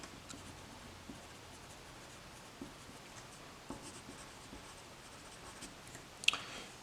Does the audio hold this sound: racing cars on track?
no